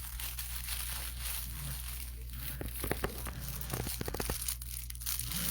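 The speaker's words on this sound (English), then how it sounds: "Is that your crinkle toy?" A crinkle toy is squeezed and rustled in a few quick crackly bursts over a steady low mechanical hum, in a barn-like farm setting in winter.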